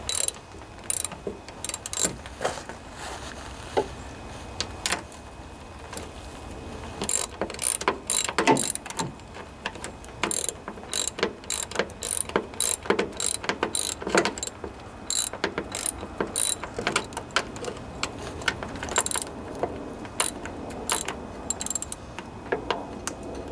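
Metal ratcheting and clicking as bracket bolts are loosened on a vintage Briggs and Stratton engine mounted on a junkyard Toro riding lawnmower, rapid bursts of close tool clicks in irregular runs with short pauses.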